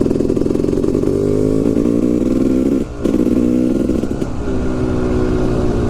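A Yamaha YZ 250 two-stroke motorcycle revs hard and loud close by, its buzzy harmonic whine holding steady, dipping briefly near the middle, then picking back up.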